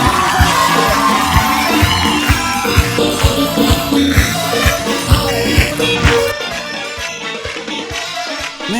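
A wedding-party crowd claps and cheers over loud, pounding music, with whoops and yells rising through the rhythmic beat before the music drops away near the end.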